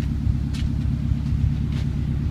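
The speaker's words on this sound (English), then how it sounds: "We're gonna step on the gas, let you hear the beautiful quad exhaust." A 2012 Subaru Impreza WRX with quad exhaust held at a deep, throbbing rumble, its low pulsing engine note steady and close with brief lighter whooshes over it.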